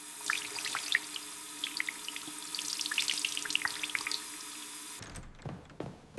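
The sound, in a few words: cold water running from a bathroom tap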